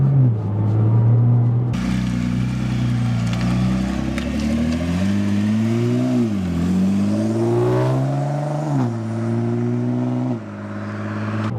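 A Nissan GTR engine with exhaust valves closed drones low and muffled, rising and falling in pitch as it revs and accelerates, with a deep exhaust rumble underneath.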